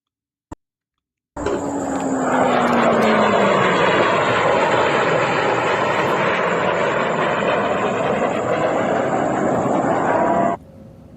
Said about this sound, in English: that's American jets over Iran bombing targets.